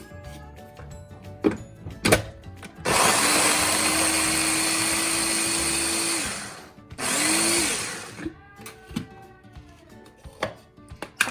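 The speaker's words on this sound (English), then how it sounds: "I'm gonna chop the cauliflower in a chopper." A small electric chopper chopping cauliflower whirs loudly in two bursts, a long one then a shorter one, with clunks and knocks of handling before and after.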